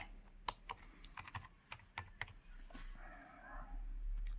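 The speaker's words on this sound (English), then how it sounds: "I'm using USB wireless keyboard here." Keystrokes on a USB wireless computer keyboard, a quick irregular run of crisp clicks close by, with a steady hum rising toward the end.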